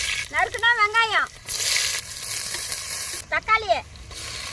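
Mustard seeds, garlic and onion hit hot groundnut oil in a home kitchen, giving a bright hissing sizzle that swells and fades with stirring, while someone talks over it in two short stretches.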